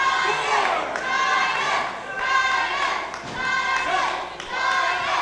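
Wrestling crowd at an IHW live event cheering for the champion as he gets back to his feet, a loud sustained roar of many voices swelling and falling in waves.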